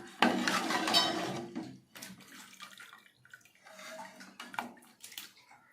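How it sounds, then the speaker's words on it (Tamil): A loud rush of water pouring into a metal cooking pot for biryani, then quieter splashing, clinks and sloshing as the pouring tapers off. "இப்போ அளவு தண்ணி ஊற்றியாச்சு"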